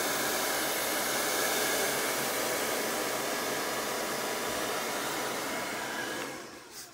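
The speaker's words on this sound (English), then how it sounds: "Now, I use the cold dryer." A hair dryer blowing on its cold setting runs as a steady, loud, close rush of air for several seconds, then cuts off abruptly near the end.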